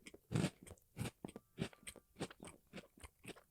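Chocolate cookies are bitten and chewed close to the mic, with a series of sharp crunches followed by quieter rhythmic chewing crackles.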